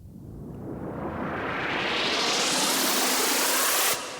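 Synthesized noise riser built in Ableton with a saturator and hybrid reverb, a loud hiss that swells and brightens steadily over a few seconds before cutting off abruptly, leaving a brief reverb tail.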